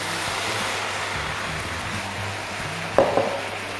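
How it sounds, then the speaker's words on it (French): Liquid cream poured into hot caramel off the heat for a chocolate moelleux, heard as a steady close hiss and bubbling that flares into a brief louder sputter near the end, with no talk. "Hors du feu, vous voyez, on va ajouter la crème liquide"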